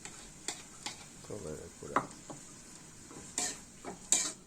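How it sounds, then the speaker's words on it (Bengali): Eggs cooking with okra and tomato in a pan give a quiet, faint sizzle, broken by a few sharp spatula knocks and scrapes against the metal, and no talking. "দিয়ে দিলাম একটু লাড়া চাটে দিতেছি"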